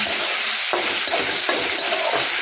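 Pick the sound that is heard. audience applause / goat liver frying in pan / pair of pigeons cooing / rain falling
goat liver frying in pan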